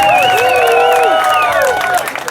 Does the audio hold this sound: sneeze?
no